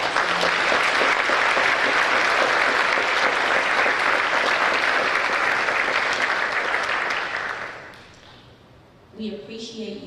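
Loud, sustained applause fills a high school career and technical education awards ceremony for about eight seconds, then fades out, followed by a brief moment of a voice.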